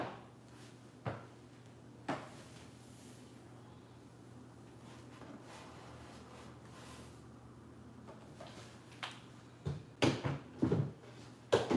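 A wooden drawer on a home entertainment center sliding and bumping open and shut, with a low steady hum under faint scattered knocks and a cluster of louder clunks and rattles near the end, no talking.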